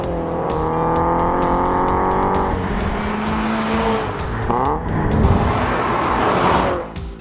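A loud, throaty Scion FR-S / Subaru BRZ engine with a 2.5-inch catback exhaust roars steadily, then revs and surges with a rising, aggressive exhaust note.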